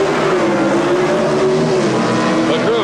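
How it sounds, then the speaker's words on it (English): High-revving modified eliminator drag racing engines at the strip, a loud, continuous, howling roar with shifting pitch that fills the whole stretch while an announcer talks over it. "High winding engines in this modified eliminator category."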